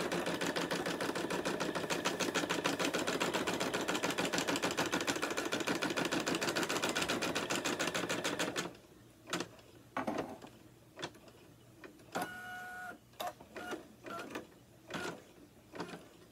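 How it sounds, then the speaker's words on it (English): A home embroidery machine stitches a circle on fabric with a dense, rapid buzzing-clatter for about eight seconds, then stops, leaving scattered clicks and handling noises. "I am going to just hit start. And now it is sewing me a circle."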